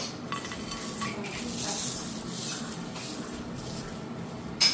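Crisp dried mint leaves crushed by hand on a hot plate, a continuous dry crackling rustle with faint clinks of kitchen utensils, close up and without speech.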